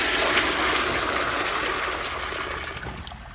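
A 2004 American Standard toilet flushes dirt in one steady, loud rushing gush that slowly tapers as the bowl drains, with no voices.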